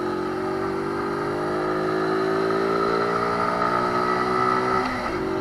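A decades-old Honda Dax moped's small engine while riding, a steady buzzing drone that holds nearly constant pitch, rising slightly near the end, with no talking.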